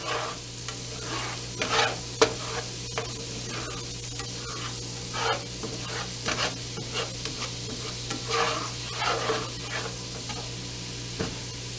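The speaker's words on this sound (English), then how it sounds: "Now I'm turning my stove on 3 so I can get that garlic to bloom." Garlic sizzling in oil on a stovetop for Cajun shrimp, a constant crackling fry with repeated stirring scrapes and soft clinks throughout, near and steady, without speech.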